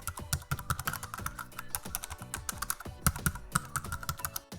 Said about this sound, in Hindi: तो मेरे पास ईमेल है तो मैं ईमेल डाल लेता हूँ